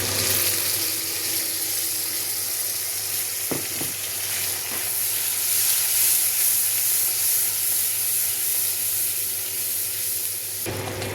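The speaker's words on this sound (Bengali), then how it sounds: "চিংড়ি মাছ ভাজার তেলে একটা তেজপাতা, একটা শুকনো লঙ্কা, এখন আমি এখানে পেঁয়াজ রেখেছি, পেঁয়াজটা দিয়ে দেবো।" Onion dropped into hot oil left from frying prawns, with a bay leaf and a dried red chilli, sizzles loudly and steadily throughout, with a few brief clinks of a utensil near the start.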